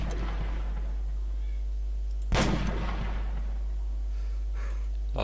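A single sharp gunshot cracks out once in the military shooter game Arma III, over a steady game soundtrack hum, with a faint second pop near the end.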